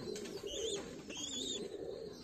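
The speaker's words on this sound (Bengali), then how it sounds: "এটা হইল গিরিবাজ কবুতর বাচ্চা।" Young Giribaz pigeon chicks coo softly at close range on a pigeon farm, in a quiet, continuous run of low calls.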